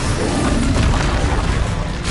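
A Bombarda explosion spell goes off in a Hogwarts video game as a loud, dense blast. The deep rumbling burst stays heavy for the whole two seconds.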